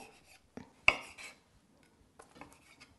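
A knife cuts canned lychees in half on a board, giving a few sharp, isolated clicks and taps with quiet gaps between them, the clearest strike near the middle.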